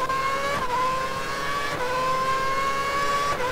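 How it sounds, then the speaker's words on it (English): A V8 Formula 1 car in the F1 2011 game screams at high revs as a steady, whining drone, with brief dips at quick upshifts, loud and close throughout. "He's short shifting now, that V8 screamer, even now, resonating through that car"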